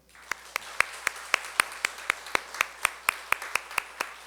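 A church congregation claps in slow, steady unison, about sixteen sharp even beats that ring in a reverberant hall at moderate volume, with no talking over them.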